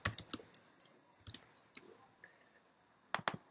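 Several sharp computer mouse clicks, close and fairly quiet, come singly and in quick pairs with short pauses between them in a quiet room.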